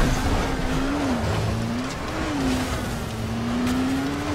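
A car in Dying Light driving across an open field: a steady engine drone that rises and falls gently in pitch, fairly loud and continuous, with no talk.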